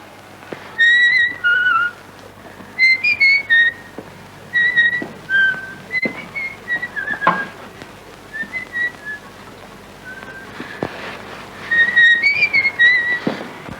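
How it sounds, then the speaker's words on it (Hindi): Repeated sharp whistles come in short bursts of two or three rising notes, close and loud over a quiet room, pausing between bursts and continuing for much of the span. "मैं कहती हूँ सीटियां क्यों बजा रहे हो?"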